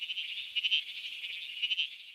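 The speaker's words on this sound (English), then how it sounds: "It's the bleating froglet. This is a tiny little frog, and it calls and sounds a lot like a sheep." A tiny bleating froglet calls repeatedly in a thin, sheep-like, insect-ish bleat, steady and fairly close with pulsing swells, with no other sounds around it.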